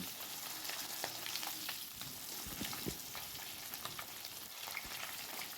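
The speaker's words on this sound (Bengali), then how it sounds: "এক পিঠ আমি কোনো রকমে একটু ভেজে নিয়েছি, নিয়ে তারপরে মাছগুলো সব উল্টিয়ে দিয়েছি।" Hilsa fish pieces fry in oil in a kadai, turned once, giving a soft, steady crackling sizzle with scattered small pops and a couple of light scraping touches, close but fairly quiet.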